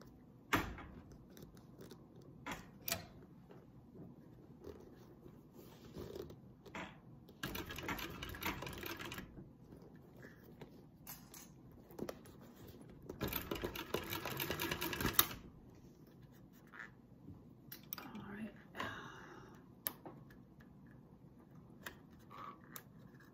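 A sewing machine stitches through vinyl for a crossbody bag in several bursts of rapid, close needle clatter separated by quiet pauses and handling clicks.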